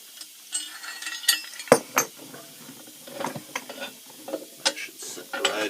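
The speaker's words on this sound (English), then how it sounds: "put our ugly little chain back on here" Metal chain rattling and clinking as it is fitted back onto a homemade junk foundry sand fluffer, irregular close clanks and scrapes with quiet gaps between them.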